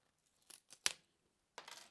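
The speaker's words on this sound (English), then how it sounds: "I cut a slice with the metal scissors here." Metal scissors snip a slice of material in a few quick, crisp cuts: three close clicks, then a final one after a short pause, near and quiet.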